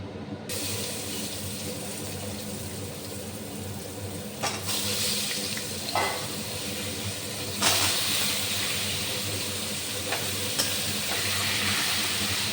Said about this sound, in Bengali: আগে পটলগুলো ভালো করে ভেজে নিয়ে লাল লাল করে